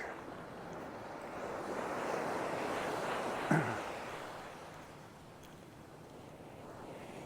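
Ocean waves wash onto Hon Chong Beach in Nha Trang in a soft, steady rush of surf mixed with wind noise, with one brief sharper sound midway.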